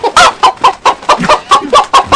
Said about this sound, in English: Even a chicken sounds possessed.